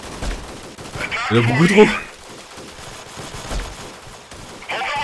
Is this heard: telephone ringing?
no